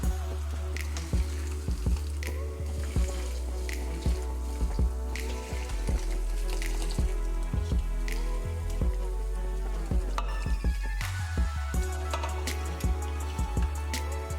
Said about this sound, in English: Now let's pour it over our seafood.